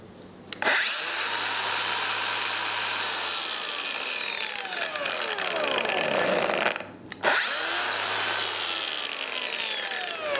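A Makita DGA504 cordless brushless angle grinder spins up with a sharp start, then its high whine slowly falls away as it winds down without much braking, followed by a second start-up; loud and close.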